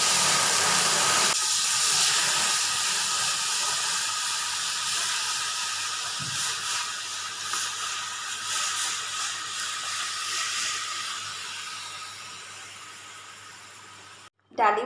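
Red lentils dropped into a hot mustard-seed tempering with dried red chili for a green tomato dal, giving a loud broad sizzle that gradually fades over several seconds before a brief clatter at the end.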